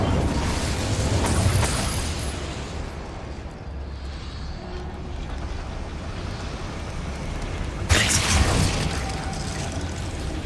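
An Incendio fire spell cast in Hogwarts Legacy, heard as loud whooshing bursts near the start and again near the end, with rumbling game effects between them and a player's voice speaking in the background.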